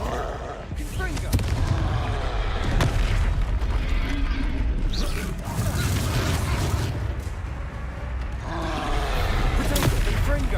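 Confringo fire-spell blasts in the Hogwarts Legacy video game boom repeatedly amid battle noise and grunting combat sounds, several sharp impacts spread across the scene with voices shouting in between.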